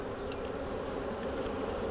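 Honey bees buzz around an open hive during an inspection for queen cells, making a steady, even drone close by with no talking.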